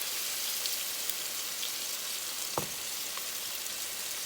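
Oxtail pieces searing in a pan, a soft even hiss of frying with one brief clink partway through.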